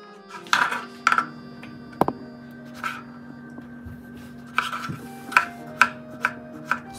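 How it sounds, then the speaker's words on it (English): Tomatoes chopped with a knife on a cutting board, a series of crisp separate knocks at an uneven pace, close and clear over a steady low hum. "First we need to cut tomatoes because that's in the name of the dish."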